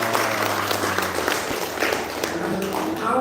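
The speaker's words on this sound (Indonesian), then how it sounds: "Oke, tepuk tangan dulu untuk kita semua" Applause at a friendly gathering of a church women's contingent in a family home, steady dense clapping throughout with murmuring voices and a low hum mixed in.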